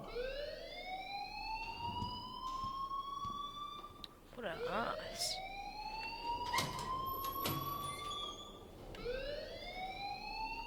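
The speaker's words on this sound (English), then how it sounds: "please turn off that alarm since that's your job." An alarm in the Life is Strange video game wails in repeated rising siren sweeps, loud and continuous, with brief clattering sounds and a voice speaking between the cycles.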